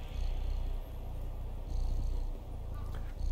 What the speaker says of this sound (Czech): Ona vrní, ta kočka.